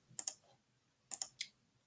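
A few quiet computer keyboard keystrokes come in two short clusters with a pause between, close and faint with no speech.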